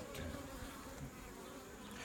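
Honey bees buzz steadily at a beehive with a sterile queen, a dense, continuous hum filling the whole stretch with no voices over it.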